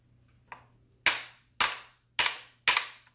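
Five sharp metallic hammer strikes on an AK47 rear iron sight, one light tap followed by four hard blows about half a second apart, close and loud, with no talking.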